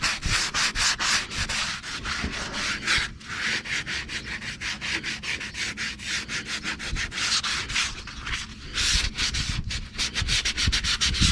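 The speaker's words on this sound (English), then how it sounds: "under the bottom of it, just to make sure that it's all sanded." Hand sanding a car rocker panel before spray painting, a steady close rhythmic scratching of rapid back-and-forth strokes with a few brief pauses, no talk.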